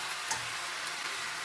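Ghee frying in a pan while egg noodles and a stir fry are being made, a steady close hiss of sizzling fat with a few faint ticks.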